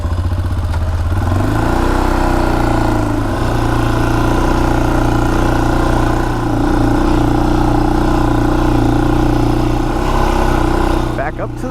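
A Honda 400EX ATV engine runs steadily at a loud, close idle-to-low-rev drone throughout, with a slight rise in pitch early on and a brief clatter at the end.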